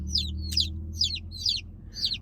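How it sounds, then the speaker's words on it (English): Buff Orpington baby chicks cheeping loudly and close, five sharp high-pitched peeps in quick, fairly even succession over a low steady hum, with no voices. "They look like your typical baby chick. Sorry, they are super loud."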